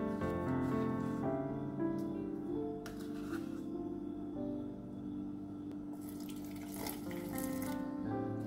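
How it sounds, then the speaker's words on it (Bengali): Coconut water is poured into a blender jug while making a dates and coconut shake, a steady liquid splashing and gurgling that runs for several seconds, close by and unaccompanied by speech. "ডাবের পানি দিয়ে দিলাম।"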